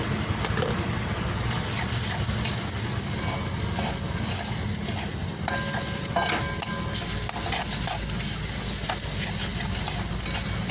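Turmeric and chilli powder frying in a pan with ginger and garlic, a dense, steady sizzle with stirring and scraping close by, continuous and fairly loud throughout.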